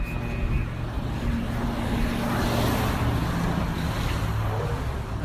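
Steady, loud roar of road traffic with a truck rumbling past nearby through a red light, engine noise filling the whole stretch without pause.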